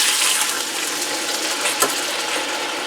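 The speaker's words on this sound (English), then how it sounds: "I'm going to add in a half a cup of water." Half a cup of water pours into a hot pot holding a seared chuck roast, a close, bright sizzle and hiss that rises at the start and keeps spattering steadily.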